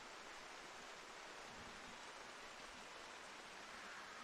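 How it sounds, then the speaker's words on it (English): Heavy rain falling at a softball field during a game, a dense, even hiss of steady downpour heard alone at low volume. "the rain now really picking up"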